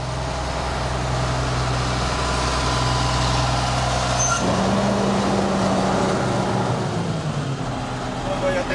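A delivery truck engine runs at idle close by with broad low rumble, a short air-brake hiss near the middle, and people talking over it.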